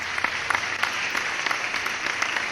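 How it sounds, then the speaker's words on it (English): Sound-effect applause on a Stardew Valley multiplayer livestream: a steady bed of many hands clapping with sharper individual claps popping out, moderately loud and alone. "A round of applause."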